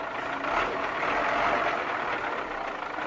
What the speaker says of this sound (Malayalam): വണ്ടി സ്റ്റാർട്ടായിരിക്കാണ്.